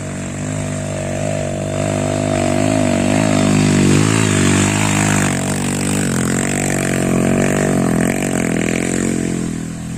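A motorcycle carrying a heavy load, used as an oil palm ojek, labours up an extremely steep incline, its engine droning loudly and steadily close by with rising and falling revs throughout, no talk over it.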